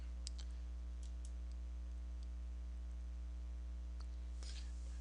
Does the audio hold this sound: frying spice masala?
no